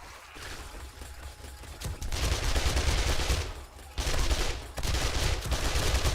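Automated turret firing in the video game 7 Days To Die, bursts of rapid gunfire that swell, pause briefly and then resume loudly over a low rumble.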